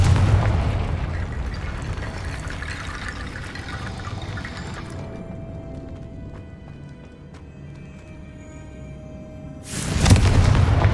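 Confringo spell explosion in the video game Hogwarts Legacy, a loud fiery blast with a crackling burst, then fading into quiet dripping ambience before another sudden boom near the end.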